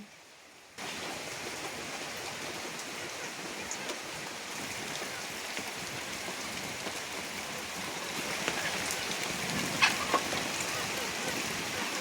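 Steady rain patters on surfaces close by in a village, starting abruptly and continuing at an even level, with a faint bird call somewhere in the background.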